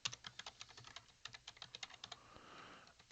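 A passphrase is typed on a computer keyboard in a quick, irregular burst of light key clicks, close and quiet, followed by a short pause with faint soft noise.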